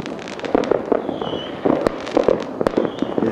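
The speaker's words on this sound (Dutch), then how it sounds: "Het is de allereerste keer dat ik mij kan herinneren dat je alleen maar vuurwerk hoort." Fireworks explode in thick fog, a run of sharp bangs and crackling bursts at irregular intervals, some near and loud, others softer, with faint whistling between them.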